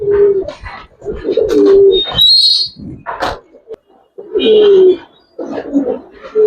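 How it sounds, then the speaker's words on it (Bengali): A Sapchila pigeon, an old breed, coos in close, repeated bursts of low throaty rolling calls separated by short pauses, with a brief higher chirp from another bird between them. "এটাও একটা সাপচিলা কবুতর"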